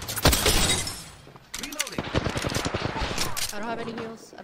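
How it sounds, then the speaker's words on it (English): Triple Take marksman rifle firing in Apex Legends, a burst of sharp gunshots and impact cracks mixed with chaotic in-game combat noise, while a player talks over the action. "Why is this triple take not shooting like a triple take?"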